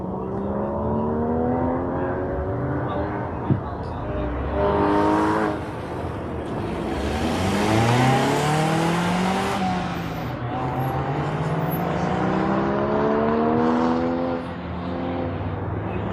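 A Porsche Boxster races an SCCA autocross course at Auto Club Speedway, its engine revving up and down through the gears with tire squeal, loud and close throughout.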